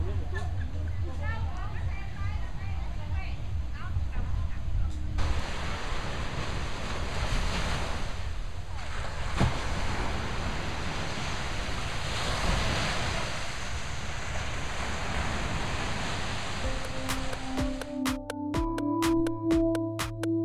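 Steady surf and wind noise fill a beach near Hoi An, Vietnam, with a continuous broad wash of breaking waves. Wind buffets the microphone, and a tonal hum and clicks enter near the end.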